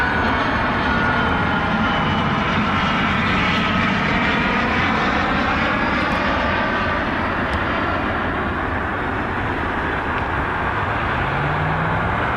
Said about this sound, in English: There's the Citation.